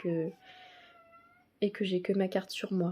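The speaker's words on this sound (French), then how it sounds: "Il n'arrête pas de miauler et de courir partout." A pet cat meows at home in one drawn-out, wavering call between stretches of a woman's speech, sitting at moderate level in the background.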